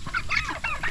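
A goose honks repeatedly in quick, nasal bursts, loud and close, with no other sounds around it.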